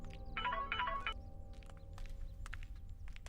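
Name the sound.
mobile phone ringtone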